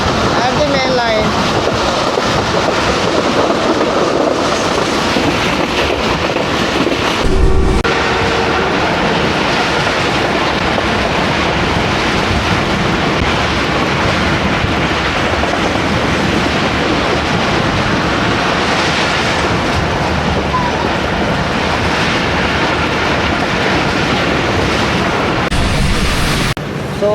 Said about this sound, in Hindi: 40 down Jafar express, running between Wazirabad and Lahore at the main line